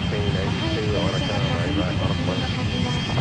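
A simulated airliner on landing approach in the Airline Commander flight game, with a steady, loud engine roar and rushing wind noise held continuously throughout, with tonal whines threading through it.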